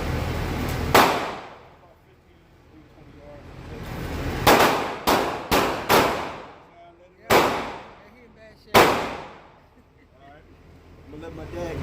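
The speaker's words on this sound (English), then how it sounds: "Shoot a shotgun." Shotgun blasts ring out outdoors, about seven sharp, loud reports spaced irregularly, several in quick succession, each with a short echoing decay.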